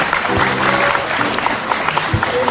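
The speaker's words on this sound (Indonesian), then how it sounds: "kita tepuk tangan dulu untuk 3 wanita ini" Studio audience applause on a TV talk show for three women on stage, a brief, loud, continuous wash of clapping and crowd noise with a voice briefly audible underneath.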